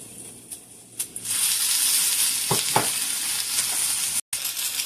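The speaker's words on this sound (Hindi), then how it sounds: "और ये मिर्ची भी इसमें डालते हैं। थोड़ा सा ऑयल डालते हैं।" Green chilies fry in hot oil for breakfast eggs and bread, a steady close sizzle and hiss running almost throughout with a few sharp pops and brief stirring clinks, no voices.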